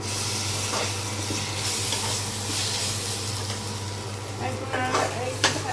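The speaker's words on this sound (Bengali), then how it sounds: "আগে তো তেলে রেখে একটু ভেজে নেব।" Ground spice paste of cumin, ginger and garlic fries in hot oil for pigeon bhuna, giving a steady close sizzle and hiss with occasional stirring scrapes, and nothing else stands out.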